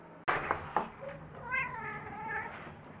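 A cat meows several times up close, drawn-out tonal calls with a short burst at the start and a longer wavering meow toward the end, heard alone with no talking.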